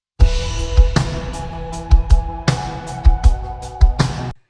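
Multi-track song playback in Logic Pro X, with a full band mix of punchy drums, bass and sustained instruments playing steadily for a few seconds before cutting off abruptly.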